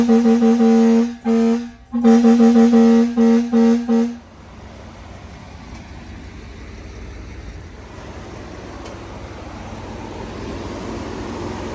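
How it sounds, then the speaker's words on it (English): Loud US Air Force air horn on a fire truck blasts in several long bursts with a short gap, then stops, leaving a steady rumble of the truck's running pump. "Let's do the US Air Force horn here."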